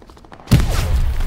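A frag grenade goes off in a World War II shooter on the streets of Sainte-Marie-du-Mont, a sudden booming thud about halfway through that rolls into a low lingering rumble after quieter ambient game noise.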